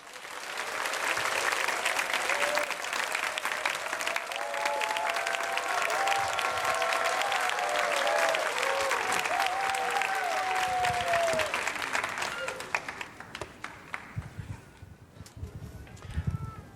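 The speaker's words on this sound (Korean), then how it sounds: "큰 박수와 환호성으로 우리 목사님을 모시도록 하겠습니다" A church prayer-meeting congregation claps to welcome a pastor to the stage. Loud, dense applause is sustained for about twelve seconds, then fades into quieter room sound.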